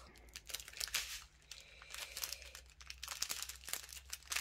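A packet of rhinestone diamonds being opened makes close crinkling and crumpling of plastic wrapping with small tearing noises in irregular bursts, no speech.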